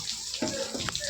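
Tap water runs for a Dev Diwali puja, a brief steady splash of a faucet stream into a vessel at close range.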